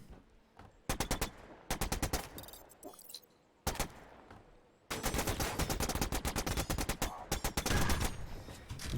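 Bursts of rapid automatic machine-gun fire from a turret in the game Discovery: Signal from Tölva, short volleys with gaps, then a longer sustained stream of shots.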